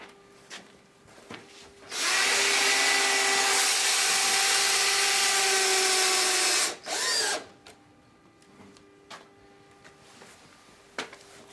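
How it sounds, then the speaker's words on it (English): Power drill driving long screws through wood-fibre insulation boards on a pitched roof: one loud sustained whine of about five seconds, a short second burst after a brief pause, then quieter handling sounds. "It's actually not hard driving them screws."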